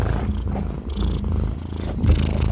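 A cat purring right against a microphone, a loud, close, rumbling purr with rhythmic pulses that continues throughout with no voices.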